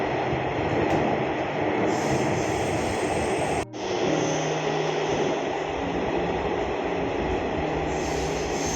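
Inside a running Delhi metro train, a loud, continuous rumbling roar of wheels and motors with a faint hiss, briefly dipping for a moment before resuming steadily.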